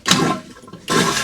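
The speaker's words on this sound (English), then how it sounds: "You've still got an electric flush toilet." An electric flush toilet on an Axopar 37 Sun-Top boat flushes close by, a loud rushing water whoosh, a brief dip, then a second strong surge of flushing water.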